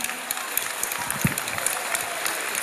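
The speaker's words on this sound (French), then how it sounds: "Applaudissez pour lui." A crowd claps steadily and densely throughout, a sustained wash of applause with scattered louder claps standing out.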